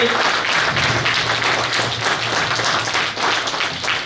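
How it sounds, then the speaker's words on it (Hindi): Loud, thunderous applause from an audience at a Seva Bharati Jammu Kashmir event, a dense and sustained wall of clapping from many hands with no break. "ताली की गड़गड़ाहट थोड़ा जोर से हो"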